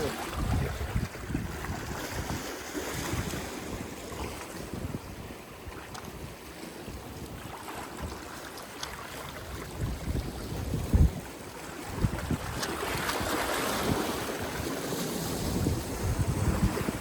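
Sea waves washing against the shore during a fishing outing, a continuous rushing surf with gusty wind buffeting the microphone, swelling louder toward the end.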